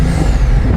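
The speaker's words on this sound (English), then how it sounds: "And you can do just the turbo sound like this." A Bugatti Veyron Grand Sport turbo gives a loud, close, rushing whoosh with a thin rising whistle over a deep engine rumble, lasting under a second with no talk.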